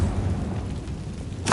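A Confringo spell blast in Hogwarts Legacy: a quiet, low rumbling stretch ends in a sudden, loud, bright burst at the very end.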